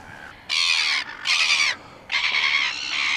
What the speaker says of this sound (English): These birds are making some right racket this morning